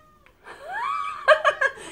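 Close by, a cat gives one long rising meow, then three short, sharp chirping mews in quick succession, heard alone in a quiet room.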